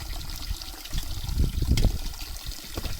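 Water poured into a cooking pot for wild pigeon peas, a steady trickling splash lasting throughout, moderately loud and close, with no voices.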